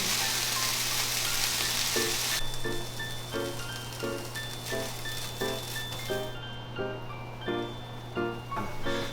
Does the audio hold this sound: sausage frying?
yes